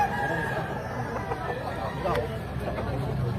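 Roosters and chickens at a poultry market in Lipa, Batangas, with scattered crowing and clucking mixed into nearby talk and crowd chatter.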